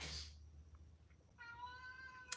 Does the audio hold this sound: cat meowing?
yes